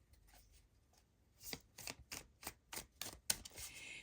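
Tarot cards are shuffled in a quick run of about eight crisp riffling bursts, close and fairly quiet, following a second of near silence with a few soft card rustles.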